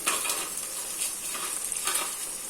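Crushed ginger and garlic sauté in a hot pan, giving a steady, close sizzle with soft stirring scrapes throughout and no voices.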